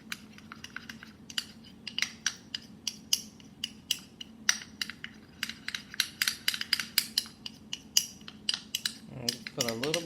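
A spoon stirs an aloe vera and turmeric mixture in a small container, producing rapid, close clinking taps in a steady, busy rhythm, with a brief low rumble near the end.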